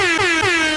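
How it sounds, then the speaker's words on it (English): A single loud, blaring air horn blast, harsh and sustained, with a slight wobble in pitch. "Give me the air horn right now"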